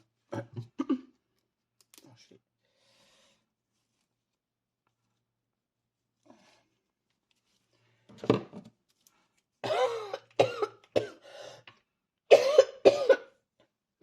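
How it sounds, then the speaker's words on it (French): Several bursts of coughing and throat clearing, a couple near the start and a cluster later, up close in a quiet room with faint clicks between. "pour cette toux qui va perturber sans arrêt ce tuto."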